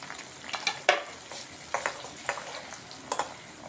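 Cluster beans curry fries in a pan with onion, a soft background sizzle punctuated by several crisp spatula scrapes and clinks.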